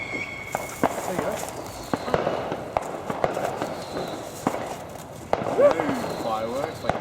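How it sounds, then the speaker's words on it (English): Fireworks go off outdoors at dusk in Australia's Northern Territory, a series of sharp cracks and pops scattered through the scene while people talk and call out nearby. "Fireworks, like yeah, it's like"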